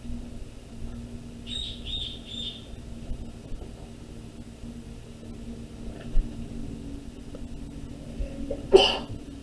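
A single sharp sneeze bursts out near the end over a quiet room hum, preceded by a few faint high chirps.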